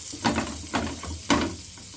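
Butter sizzles in a frying pan for egg toast, a close hissing fry broken by three crackling bursts at short uneven intervals, no speech.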